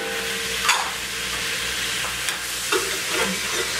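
Salt, pepper and thyme stirred into sizzling melted butter in a pan for white pepper gravy, a close steady hiss and sizzle with a few soft scraping stirs, no talking.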